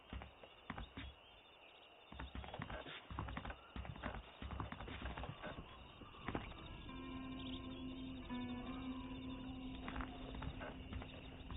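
Horses clip-clop in the video game Red Dead Redemption, with rhythmic hoofbeats at varying pace over a quiet outdoor ambience and occasional faint bird calls.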